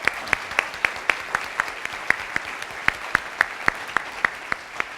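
A small audience at a university president's town hall gives a round of applause, about a dozen distinct claps spaced out over a few seconds with a light crowd patter between them, sounding moderately close and fairly sparse.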